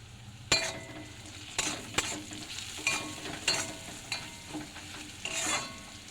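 Ingredients with a little turmeric being stirred and mixed in a frying pan: a soft sizzle underneath with repeated scraping strokes of a utensil against the pan at irregular intervals, close and fairly quiet, no talking.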